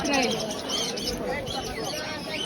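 A dense chorus of small caged birds, including java sparrows, chirping and tweeting close by at a market, continuous and overlapping, with a voice speaking faintly underneath.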